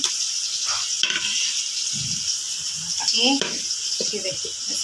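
Onions fry in a pan for mutton biryani, a constant close sizzle with stirring scrapes, while a voice murmurs briefly over it.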